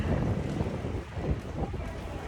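Strong wind buffets the microphone in a continuous, rumbling gusty roar, close and loud, with no clear voices.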